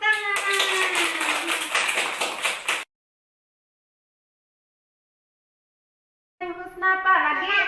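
Children in a classroom clap hands in a quick, steady rhythm while chanting together; the clapping stops for several seconds of silence, then the voices return.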